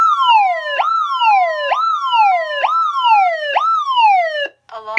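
A Vista 10SE alarm system's replacement voice siren driver wails loudly in five rapid rising-and-falling sweeps, close and alone, then cuts off abruptly at the end.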